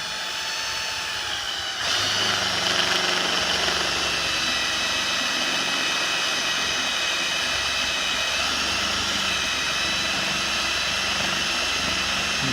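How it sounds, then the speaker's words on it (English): A power drill boring a half-inch hole through the center of a threaded part, a loud steady whine that starts abruptly after a brief lower hum and runs continuously to the end, with no talking. "Drill this out in the center."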